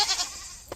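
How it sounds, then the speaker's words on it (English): Goats on a farm let out a loud, strained bleating scream, one sharp cry lasting under a second with no voices around it. "Goats are screaming."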